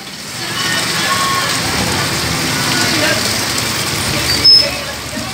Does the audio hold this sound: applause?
no